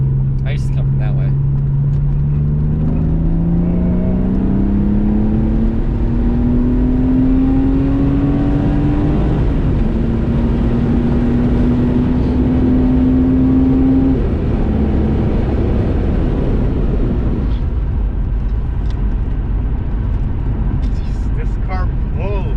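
A BMW M3 with about 240 horsepower accelerates on a highway, its engine pitch climbing steadily through a gear, dropping at a shift, then rising again under constant loud road and wind noise.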